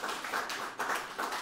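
A quiz-show audience gives brief applause after a correct answer, a short burst of clapping that swells in rhythmic waves, fairly close and alone.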